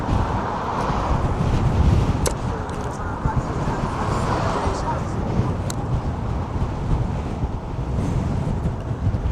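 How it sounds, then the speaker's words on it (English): Strong, gusty wind buffets the microphone on a very windy day outdoors, a loud continuous low roar with surging gusts throughout. "The winds are something else today"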